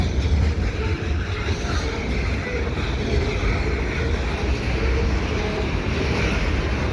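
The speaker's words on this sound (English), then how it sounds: "It's been a while since I've seen the CSX train here in Dorval." CSX freight train passing at Dorval, a steady broadband rumble with wind noise that holds at a constant loudness throughout.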